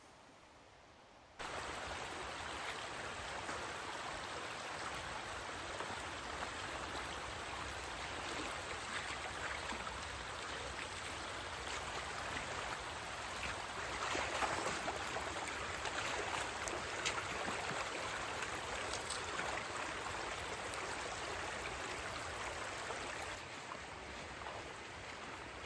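Rainwater rushing steadily down a road after a night of heavy rain on saturated ground, a continuous broadband wash heard at moderate distance, fairly quiet and unbroken, with no voices.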